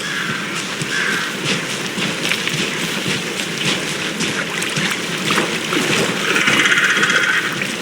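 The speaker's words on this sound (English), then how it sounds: "I never minded rain." Steady heavy rain falls and patters on surfaces in the rainy outdoor setting of the video game Alan Wake 2, a dense continuous wash that swells slightly near the end, with no voices.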